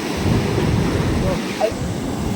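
Sea waves roll in at a beach in Nellore, a broad, continuous roar of surf mixed with wind buffeting the microphone, loud and close, with faint voices in the background.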